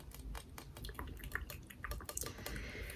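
Yamaha student flute with closed-hole keys, its keys pressed in a steady run of close, crisp clicks and clacks, dense and rapid, alone with no voice.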